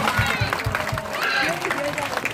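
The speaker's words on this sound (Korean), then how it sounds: "박수" A crowd claps continuously in a lecture hall during a laughter and character-education concert at Nambu University. A few heavy rhythmic claps open the applause, which then settles into a dense, steady wash of clapping with voices blended in.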